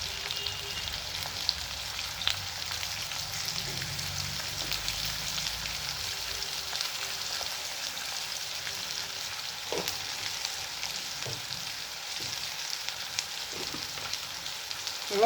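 Potatoes with black cumin fry after turmeric goes into the pan, a continuous close sizzle with occasional spoon stirs and light clinks over a long stretch, no one speaking.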